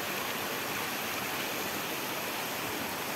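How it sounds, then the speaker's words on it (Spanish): Water rushes down into a crystal-clear turquoise natural pool at El Atracón in Michoacán, a steady, dense roar filling the whole stretch without a break. "Miren nada más cómo baja el agua ahí."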